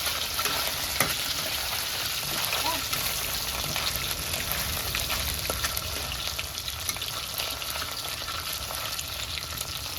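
Oil sizzles and crackles continuously as small fish fry, a dense, steady hiss with scattered pops, close up and unbroken for the whole stretch.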